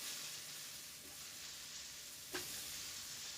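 Cabbage fries in a wok with a steady, broad sizzle throughout, a soft hiss at low volume with one brief louder stir or clatter near the end and no talking.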